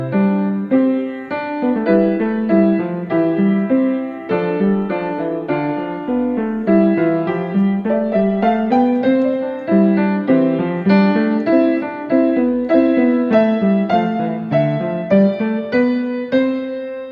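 Three-part keyboard music from Bach's Prelude and Fugue in G Major, BWV 860: a moving melody over a steady quarter-note inner line and a bass, played continuously at an even, moderate volume.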